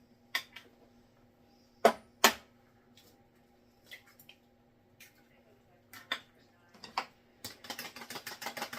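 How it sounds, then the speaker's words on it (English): Cheesecake ingredients at room temperature are whisked lightly in a bowl, giving sharp, irregular clicks and taps of the whisk against the bowl that quicken into a rapid rattling burst at the end. "lightly whisk them together"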